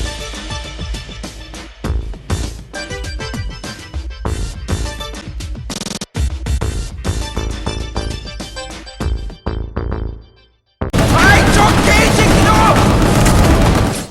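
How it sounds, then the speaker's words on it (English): Relentless bursts of rapid gunfire, booming blasts, dying enemies and breaking scenery in the video game Gungrave G.O.R.E, dense and chaotic, briefly cutting out before a loud wall of noise returns. "the constant gunshots coupled with the sounds of dying enemies and broken environment pieces"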